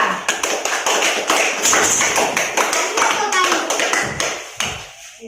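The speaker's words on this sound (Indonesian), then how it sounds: "tepuk tangan untuk kelompok 2" A class of students claps for a group in a classroom, a quick run of sharp, fairly close taps and slaps carrying on for several seconds.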